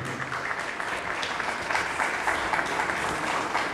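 Audience applause at an archaeology days ceremony as a plaque is presented, moderately loud continuous clapping with some louder claps standing out, no voices.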